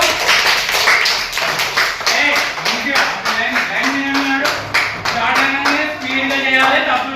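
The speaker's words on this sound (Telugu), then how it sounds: "చప్పట్లు కొట్టండి అందరూ" Schoolchildren in a group clapping their hands together in a rapid, steady, loud rhythm throughout, with children's voices calling out over the claps.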